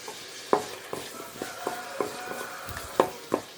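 Tomatoes with salt sautéing in a pan, a soft steady sizzle broken by periodic scraping and clinking stirring strokes, close and moderately loud.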